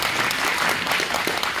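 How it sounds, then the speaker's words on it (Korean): A lecture audience applauds the speaker, Director Kim Tae, after his talk on trauma and anti-communist complexes in Korean society: dense, steady clapping from a full room, even and sustained throughout. "김태 소장님께 다시 박수 부탁드립니다"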